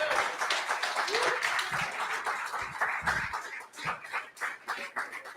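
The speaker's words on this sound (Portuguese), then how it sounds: "Dê um aplauso ao Senhor." A church congregation claps during an evening family worship service, a dense burst of applause filling the room with some voices mixed in, steady and fairly loud before thinning out.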